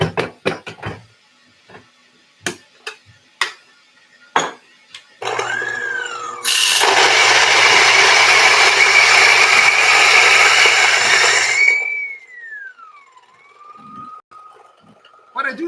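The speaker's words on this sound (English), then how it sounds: "What I do like is the auto stop on this grinder, so it senses the motor spinning up faster because there's no more resistance" A battery-powered coffee grinder whines up to speed, then its motor grinds beans in a loud, dense roar for several seconds. The pitch rises as resistance drops, and the auto stop lets the motor wind down. Scattered handling clicks and knocks come before.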